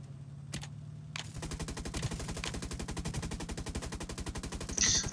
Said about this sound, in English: I have no idea what they're shooting at